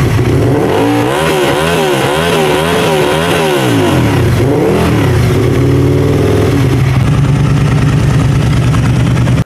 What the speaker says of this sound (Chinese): 我们先听一下排气声浪。